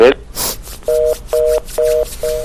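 A telephone line after a call disconnects, sounding four evenly spaced electronic beeps of a busy tone close on the line, following a short burst of noise at the start.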